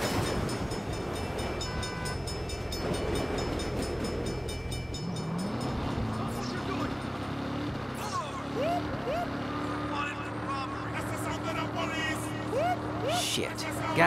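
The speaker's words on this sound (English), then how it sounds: "Crap. Bad time for a train." In the Saints Row video game, a train rumbles past with rolling wheel noise and clatter, and short squeals ring out later, all under other game sounds.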